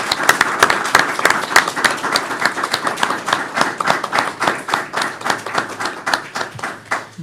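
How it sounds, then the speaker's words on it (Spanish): A small audience at a book presentation in a theology faculty claps, the individual hand claps distinct and rapid, swelling and thinning over several seconds. "Aplaudan,"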